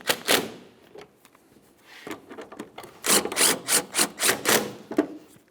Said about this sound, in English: We can snug those upper bolts.